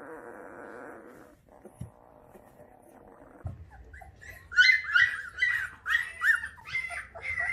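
A litter of two-week-old puppies makes soft whimpers that grow into a busy run of high, close yelps and cries, loud and overlapping.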